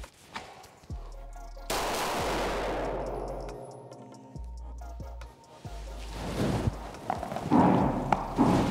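Several sharp, loud shots from a heavy Canik Rival S 9mm pistol ring out at a shooting range, spaced irregularly with sustained reverberant tails between them, followed by thumping handling noise.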